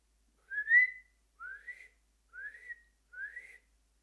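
A person imitates whistling with four short, clear, rising whistled notes, evenly spaced and fairly soft, set against near silence.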